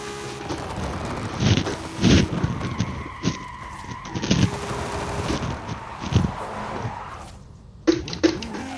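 A car in the Forza racing game drives hard with tyres skidding and screeching in several loud bursts over a steady engine drone, with no voices.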